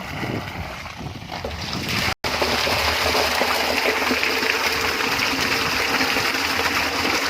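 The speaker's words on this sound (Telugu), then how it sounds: "ఇప్పుడు ప్రజెంట్ అయితే నేను మోటార్ ఆన్ చేశాను" A water pump motor runs while filling a drum with water for waste decomposer culture, giving a loud, steady rushing hum and splash that cuts out for a moment and then resumes unbroken.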